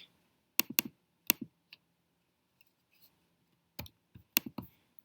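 Computer mouse clicking in sharp, close clusters of two or three clicks separated by silent pauses, with no talking.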